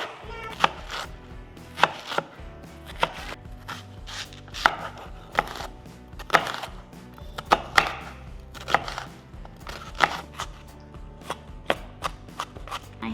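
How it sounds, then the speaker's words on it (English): Knife chopping lettuce and onion thinly on a cutting board for copycat burgers, a quick steady run of crisp close thuds with short pauses between strokes. "cut up our lettuce nice and thin and our onion really, really, really thin"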